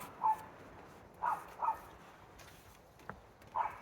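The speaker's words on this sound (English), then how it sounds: "I get so distracted by the dogs barking." Dogs bark in the distance, four faint, separate barks spread over a few seconds against a quiet indoor background.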